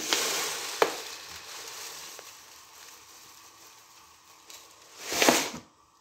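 An egg fries in a pan with a soft, continuous sizzle, broken by a few sharp taps and a louder scraping stir near the end, and no speech over it.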